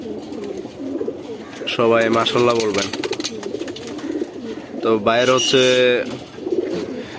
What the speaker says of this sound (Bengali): সুন্দর একটি কবুতর